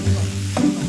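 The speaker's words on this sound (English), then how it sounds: "I'm quickly frying the marinated pork with vegetable oil to seal in the flavors." Marinated pork sizzles as it fries in vegetable oil, a short burst of crackling with a stir of the pan.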